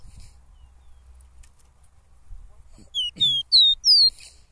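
Caboclinho (seedeater) perched on a person's arm sings a short run of four clear, rising whistled notes, close and loud after a quiet stretch of faint low background rumble.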